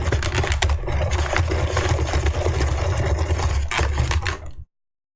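Continuous buzzing, scraping rasp of the wooden wheel on a UGEARS hurdy gurdy kit being roughed up so it grips rosin, loud and close, running steadily for over four seconds then cutting off.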